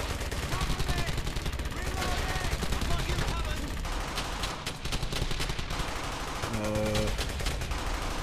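MG-42 machine gun fire in the World War II shooter Brothers in Arms: Hell's Highway, with rapid bursts and scattered gunfire running almost continuously, mixed with in-game voices and loud combat ambience.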